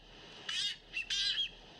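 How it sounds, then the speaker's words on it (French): Boobies, threatened seabirds of Clipperton Island, give two harsh squawking calls in quick succession, close and clear over a quiet background. "ces oiseaux menacés en ont fait leur royaume"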